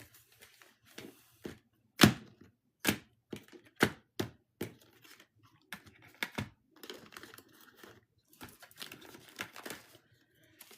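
Tarot cards being shuffled in threes by hand, a series of sharp papery riffles and slaps spaced irregularly, close and fairly quiet in a still room.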